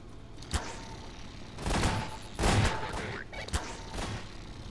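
Gunfire in Garry's Mod, a few scattered sharp shots and bursts over a continuous game background, moderately loud and not very close.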